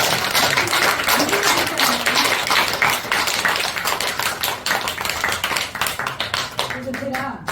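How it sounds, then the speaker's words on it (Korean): A lecture audience claps along in a brisk, irregular patter of many hands, with a voice talking over the clapping throughout. "박수."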